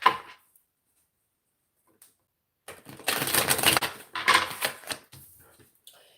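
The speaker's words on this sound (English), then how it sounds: "because I'm shuffling again another card" Tarot cards being shuffled by hand in a series of dense riffling, crackling bursts after a long quiet stretch, with a brief soft tap near the start; close and moderately loud, no talking.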